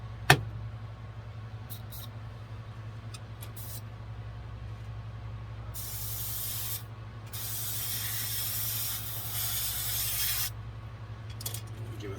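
An aerosol spray can lays a thin dulling coat on scale model car wheels, a steady close hiss in two bursts, the second longer, over a constant low background hum, with a sharp click at the start.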